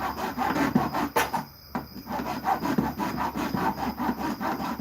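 A hand saw cuts through wood in steady back-and-forth strokes with a rasping, rhythmic scrape. A brief pause comes about a second in, then the sawing resumes alone at a close, even pace.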